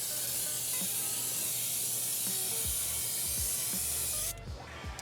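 A continuous hissing spray of Colourlock leather colour being sprayed onto a leather surface, close and steady, with faint low knocks underneath, cutting off abruptly near the end.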